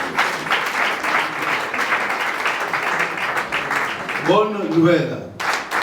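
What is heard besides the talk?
church congregation applauding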